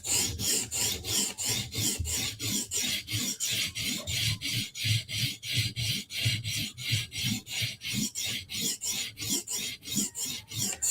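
A military knife edge is stroked across a 400 grit sharpening stone in a steady, even rhythm of rasping strokes, about two or three each second. The strokes are close and fairly loud, with no talk.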